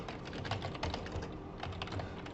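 Fast, steady typing on a computer keyboard, close and clear, with many rapid clicking keystrokes and no voice.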